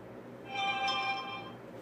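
A phone ringtone alert sounds up close, a single bright tonal chime that swells for about a second and fades, with room quiet around it and no talking.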